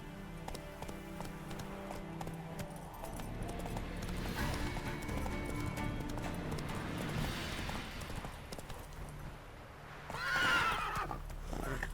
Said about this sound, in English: I hate when the horse doesn't jump.